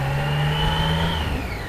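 A BMW K75 motorcycle's counterbalanced three-cylinder engine, laid on its side, revs up smoothly, a close, even engine drone with a rising whine that eases off near the end.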